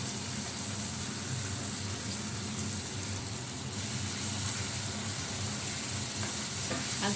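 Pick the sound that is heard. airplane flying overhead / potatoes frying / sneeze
potatoes frying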